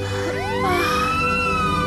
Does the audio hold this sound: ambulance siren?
yes